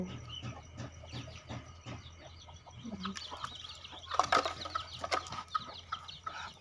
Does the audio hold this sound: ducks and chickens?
yes